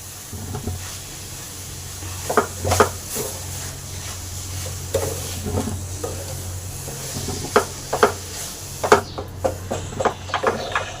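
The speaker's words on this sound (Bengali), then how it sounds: "এবার দুধ আর চিনিটা ভালো করে এঁচোড়ের সাথে মিশিয়ে নেব।" A spoon scrapes and stirs young jackfruit halwa with sugar and milk powder in a pan, with repeated soft scraping strokes over a low sizzle.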